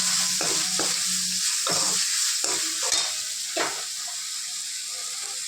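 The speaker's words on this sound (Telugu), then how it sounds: "కరివేపాకు, కొత్తిమీర, కొంచెంసేపు వేగనిస్తాం." Curry leaves and coriander fry in a potato masala gravy with tomatoes, giving a steady close sizzle broken by several scraping stirs of a spoon against the pan.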